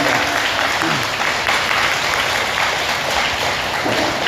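Audience at a Buddhist temple dharma talk applauding a head monk, loud continuous clapping from a room full of people with faint voices beneath.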